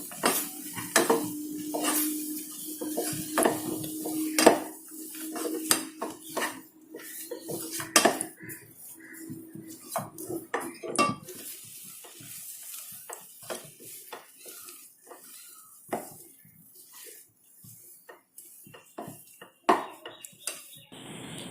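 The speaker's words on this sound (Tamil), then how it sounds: "இப்போ இந்த பிரெட் க்ரம்ஸ் இதில் போட்டுடலாம். இதை போட்டு நல்லா கலக்கி விடலாம்." A spoon stirs bread crumbs into hot milk in a metal pan for bread halwa, with irregular scraping and clinking against the pan and a faint sizzle underneath, close and fairly loud throughout.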